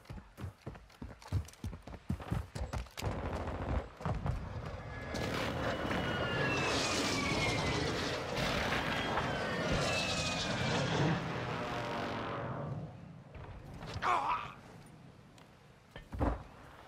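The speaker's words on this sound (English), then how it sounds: "Friendly airstrike on the way." Friendly airstrike jets in Call of Duty Modern Warfare II sweep past as a loud, sustained roaring engine rush that swells and fades, framed by sharp rhythmic gunshots before and scattered impacts after.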